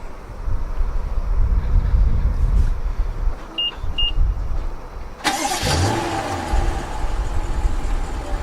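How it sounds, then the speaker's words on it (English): A car engine starts up by remote key fob with nobody inside, a sudden loud burst that then settles into a steady idle, preceded by a quiet stretch with two short electronic beeps. "So the car started up"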